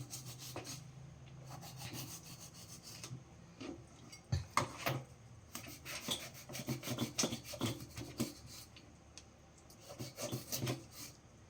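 A knife cuts through grilled blue marlin from Bikol in a series of irregular scraping, rasping strokes with occasional louder bursts, close and fairly quiet, with no talking.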